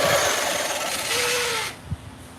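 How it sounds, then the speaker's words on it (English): A buffer polisher runs with a steady whirring drone, then cuts off abruptly, followed by a brief knock as it winds down. "This is a buffer polisher, which... I don't think I've ever used this."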